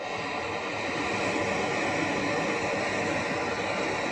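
A 5800W Bulin electric stove runs on high power with a loud, steady broadband roar like rushing air or a fan, constant throughout with no talk.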